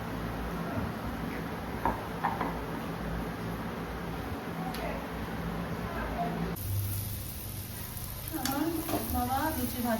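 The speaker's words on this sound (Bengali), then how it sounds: "বাবা লুচি ভাজছে, আমাকে ভাজতে দিল না।" Luchi, puffed wheat flatbreads, frying in hot oil with a continuous close sizzle that swells and bubbles as dough goes in, with faint voices in the background.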